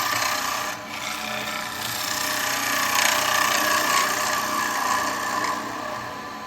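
A spindle gouge cutting wood on a turning lathe gives a continuous close scraping hiss with slight swells, steady throughout and free of speech.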